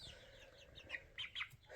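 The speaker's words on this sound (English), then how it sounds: "This guy, that's a rooster." A young rooster chick in a coop giving a few soft, high cheeping clucks in quick succession, close and faint over a quiet background.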